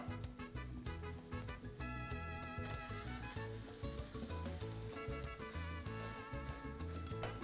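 An open paratha topped with smashed raw chicken and potato filling fries in a pan with loud, continuous close-up sizzling and crackling oil.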